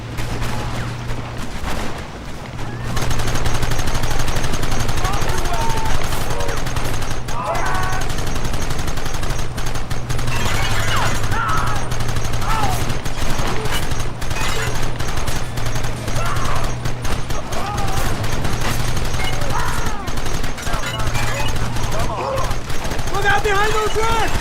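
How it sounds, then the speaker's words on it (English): Rapid Gatling gun fire in the Red Dead Redemption video game, a loud, sustained rattle of shots that runs almost the whole time, with voices talking over it. "Gatling gun eh"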